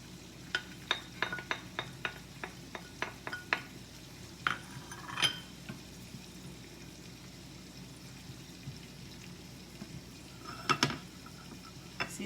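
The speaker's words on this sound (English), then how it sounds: "this butter is already melted, so I'm gonna go ahead and add my garlic" Garlic is added to melted butter in a cooking pot, bringing a faint sizzle beneath a quick series of sharp metallic clinks and scrapes of a utensil against the pot, followed by a quieter stretch and a few more clatters.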